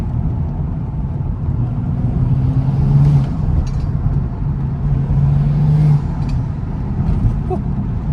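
A BMW M235i drives in traffic with a steady, loud low engine drone and a faint whistling turbo spool rising and falling under it, with light road noise throughout.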